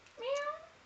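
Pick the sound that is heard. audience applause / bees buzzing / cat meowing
cat meowing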